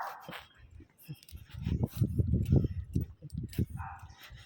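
A dog barks and yips in short bursts with a whimpering tone, close by, while people talk over it.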